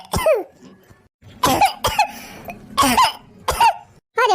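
An animated character in an Awadhi family cartoon comedy coughs in about five or six harsh, throaty bursts with a strained vocal edge, loud and close, separated by short pauses and with no talk.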